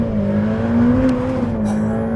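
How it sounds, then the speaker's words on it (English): A Ferrari F8 Tributo engine drones loud and steady, its harmonic note climbing slightly as it pulls through the gears, heard alone without talk. "just pull a paddle, bang, next gear, pull a paddle, bang, next gear. It's so fast, and yet you get these lovely little downshift blips of the throttle"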